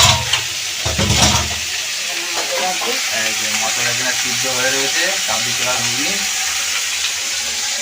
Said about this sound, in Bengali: এখানে আলুটা ভেজে নিচ্ছে কাবলি ছোলা ঘুগনি করবে বলে